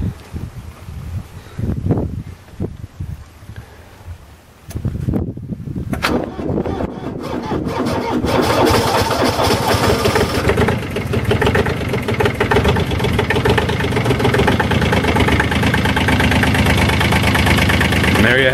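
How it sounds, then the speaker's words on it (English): A Kubota B7200D compact diesel tractor with a sluggish battery cranks briefly, then fires up and settles into a loud, steady close-up idle that continues alone for the remainder. "So if the battery's not dead, it should fire up."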